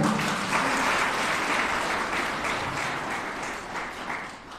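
A congregation at a Hindi discipleship retreat session applauds in a dense, sustained wash of clapping that holds steady and then gradually tapers off.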